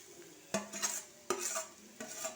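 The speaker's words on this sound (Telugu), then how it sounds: "కాకరకాయ వేపుడు ఇలా మంచిగా కలిపేసుకుంటానండి" A spatula stirs a bitter gourd fry in a pan, giving three distinct scraping, clattering strokes against the metal over a soft sizzle, heard quietly and close up without speech.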